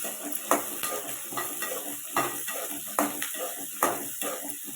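Garlic sautéing with onions in a pan for fish curry, a light sizzle under repeated metal spoon scrapes and clinks against the pan in an irregular stirring rhythm.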